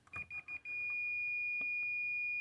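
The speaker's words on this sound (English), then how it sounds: "I'm going to touch one side and the other, and it's beeping." A continuity tester gives a series of short electronic beeps, then one sustained high-pitched tone holding steady as its probes touch both ends of a wire, close and clear over a quiet background.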